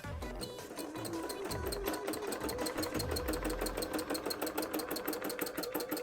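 An embroidery sewing machine stitching a cosplay panel makes a steady, rapid, rhythmic whirring and ticking, quiet and continuous throughout.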